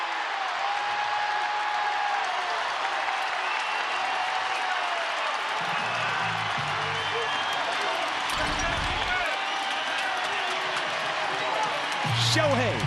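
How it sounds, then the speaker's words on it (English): Crowd at an Angels home baseball game against the Nationals roars after Shohei Ohtani's game-tying double, a loud sustained stadium cheer with applause across the whole span, while broadcasters talk over it. "And listen to this crowd."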